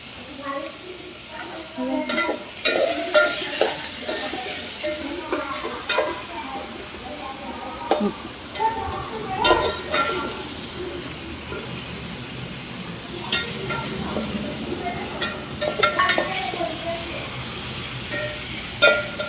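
Food fries gently in oil on a low flame, with a soft steady sizzle and scattered scrapes and clinks of a spoon stirring the pot, close by, under occasional talk, while turmeric-spiced food cooks for a community meal.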